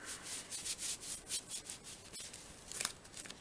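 Embossing paste is wiped off with a small wipe in quick, rhythmic rubbing strokes, soft and close, with no talking.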